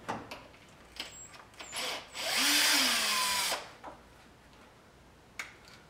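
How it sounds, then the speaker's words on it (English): A power drill whirs in one sustained burst of about a second and a half, removing 10mm hose clamps on a Toyota Land Cruiser, preceded and followed by clicks, light tool handling and faint taps nearby. "Drill makes this kind of thing really easy."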